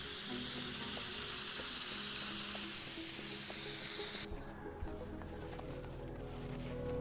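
A steady, loud hiss of spraying in the game Teardown runs for about four seconds, then cuts off and leaves a quieter, rumbling background.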